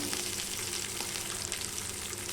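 About 200 grams of peeled shallots fry in hot oil for a pirandai chutney, a steady, dense sizzle that stays loud and unbroken throughout with no voices.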